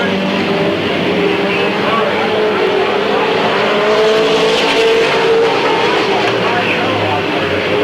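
Stock cars racing at Midvale Speedway in 1995, a loud continuous engine roar close by throughout, with an announcer's commentary running over the noise.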